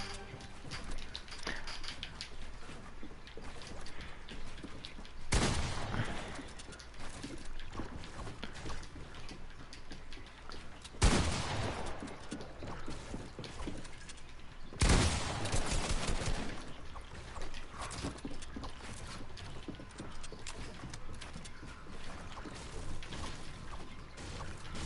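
Video game gunfire: several sharp bursts of shots stand out over a steady mechanical background rumble, with three loud clusters spaced across the span.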